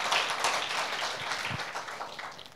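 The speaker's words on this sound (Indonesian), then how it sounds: "Yang mau berikan tepuk tangan dulu buat Allah kita." Clapping from a church congregation during a service, a moderate, continuous patter of many hands heard at some distance, with no voices over it.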